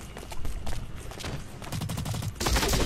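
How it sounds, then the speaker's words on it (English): Rapid gunfire crackles continuously in the Blacklight Retribution first-person shooter, with dense overlapping shots and a louder burst near the end, with no voices. "I can't tell where those bullets are hitting."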